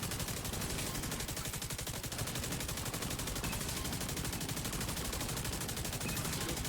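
Rapid automatic fire from the Bluescreen exotic light machine gun in a video game, a dense, unbroken stream of rounds rattling at a fast, even rate throughout.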